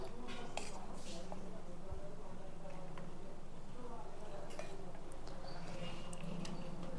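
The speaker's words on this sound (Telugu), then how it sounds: "ఫస్ట్ కర్రీస్ వడ్డించేస్తాను అందరికీ" Curries being served onto plates for a Dasara festival meal, with scattered clinks of serving spoons and dishes under nearby talking.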